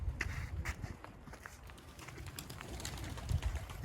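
Pigeons flocking nearby, with a bustle of fluttering wings, shuffling and soft cooing over a continuous low background rumble.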